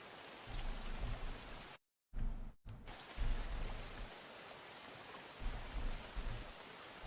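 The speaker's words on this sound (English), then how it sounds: "the rain suddenly starts to fade away" Steady rain patters densely on surfaces, close and continuous with low rumbling undertones, briefly cut to silence twice before resuming.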